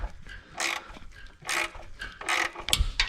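A 10mm ratcheting wrench clicks in short bursts on a Ford Flex engine during timing cover removal, close and moderately loud, in several separate strokes with small gaps between them.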